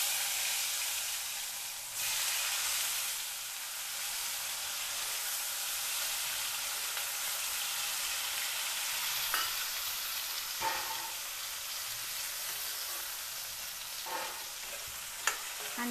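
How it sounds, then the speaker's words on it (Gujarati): Cut potatoes with turmeric sizzle steadily in a hot pan while a spoon stirs them, a close, continuous frying hiss with occasional scraping clicks and no talking. "અને સરસ રીતે આપણે મિક્સ કરી લેશું, અને 1 જ મિનિટ સુધી આપણે આને એમને બટેકા થવા દેશું"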